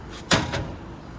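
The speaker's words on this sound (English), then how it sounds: "Steps pull out. We're going to pull them out." Entry steps of a 2024 Forest River Salem Platinum 28FKGX travel trailer pulled out: one sharp metallic clunk followed by a fainter rattle as they settle, close by against quiet outdoor background.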